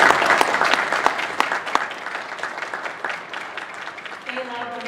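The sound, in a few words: audience applause at a concert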